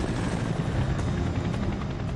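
Helicopter in flight: continuous close rotor and engine drone with faint rhythmic blade beating, steady and loud throughout, no voices.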